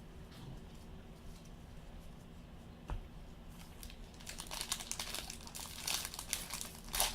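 Paper packing from a box of 2016 Bowman Draft Jumbo baseball trading cards crinkles and rustles close to the microphone, quiet at first and then building into denser bursts of crumpling near the end.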